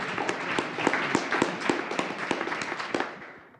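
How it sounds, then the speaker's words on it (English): An audience at a university startup showcase claps in a dense patter of many hands, holding steady and then fading away toward the end. "So big round of applause."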